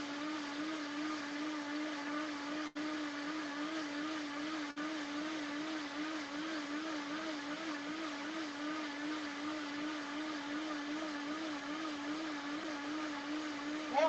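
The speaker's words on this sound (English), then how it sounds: "this is the Vitamix" A Vitamix blender runs steadily at high speed with a continuous whirring motor drone and a slightly wavering pitch. It briefly cuts out twice and sounds close.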